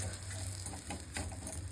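Chapati laid on a hot, oiled griddle gives a steady, faint sizzle with a light hiss running evenly throughout, no voices.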